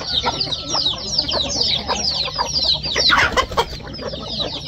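Chickens cluck and squawk continuously close by, several birds overlapping in busy, chattering calls with a louder burst of cackling partway through.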